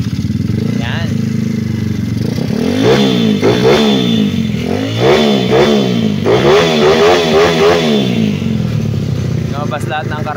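A 132cc motorcycle engine with a 54mm block and stock stroke revs repeatedly up and down in a sound check, loud and close, each blip rising and falling in rapid succession over a running idle.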